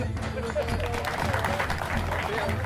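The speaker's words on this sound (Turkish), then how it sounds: "O zaman bir alkış alırsak." Audience applause at a Turkish martial arts showcase event, dense steady clapping from a crowd filling the room for the whole stretch.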